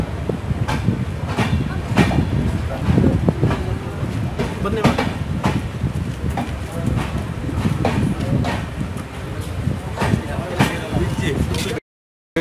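The Mangalore–Yesvantpur Express pulls out of Kabaka Puttur station, with rhythmic wheel clatter and rumbling carriage noise building steadily, wind rushing past, and a brief dropout near the end.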